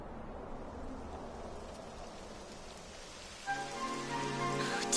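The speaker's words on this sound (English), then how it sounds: "It would have to go and start raining, wouldn't it?" Rain starting in the video game Dragon Quest 11, a soft steady patter of rainfall that swells louder near the end as a tonal musical layer enters, faint overall.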